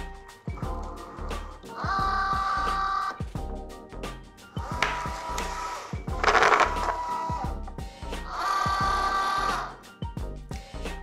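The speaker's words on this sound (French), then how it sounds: "La machine va automatiquement faire passer le matériel à l'intérieur et mesurer que vous avez la quantité nécessaire" A Cricut Joy cutting machine pulls a strip of material inside, giving several bursts of steady motor whirring separated by clicks and short knocks, close and moderately loud.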